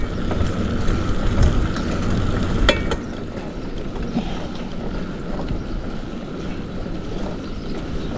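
Cold wind blows steadily past the microphone in a desert play area, a broad continuous rush that is louder for the first few seconds and then eases to a slightly quieter, even roar.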